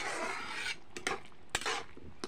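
A metal lid clinks and scrapes onto a pot of cooking bottle gourd sabzi in a village kitchen. A few short, faint clatters and rubs come close together, with no talking.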